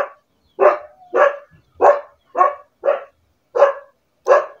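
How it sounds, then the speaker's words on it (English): A noisy dog barks loudly and close by, giving eight sharp, evenly spaced barks with brief silences between them and no talking. "This is my dog, very noisy dog."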